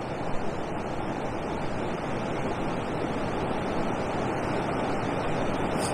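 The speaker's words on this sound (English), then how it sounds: "The only problem is the wind, really." Wind gusting across a microphone on the bank of the river Avon, a loud, steady broadband roar filling the whole stretch with no voices.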